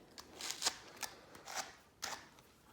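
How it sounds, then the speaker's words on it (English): Quiet brushing and snapping strokes of a raw wool fleece's ends being flicked open, about five short bursts spaced irregularly, close by, with no speech. "what they call flick the ends, you're just opening up the ends so that it catches when you spin"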